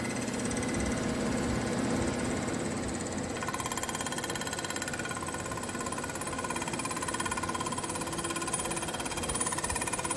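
A milling cutter takes a single pass across the base of a Weber 40 IDTP carburetor, making a steady, rapid, jackhammer-like chatter that fills the whole stretch with no voices.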